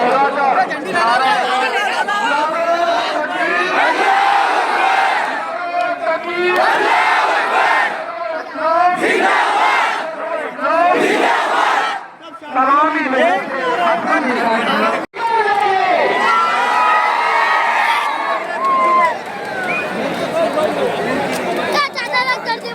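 Protest crowd waving black flags and chanting slogans, loud massed voices shouting in rhythmic bursts with overlapping chatter and brief lulls between rounds, close and continuous.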